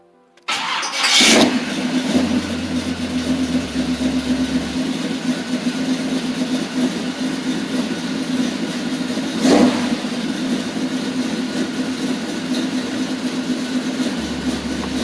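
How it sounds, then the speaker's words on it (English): A car engine cranks on a weak battery, catches with a loud burst and settles into a steady, rough idle that runs on, with one brief louder blip partway through. "I hope it's got enough battery to pop it off one more time."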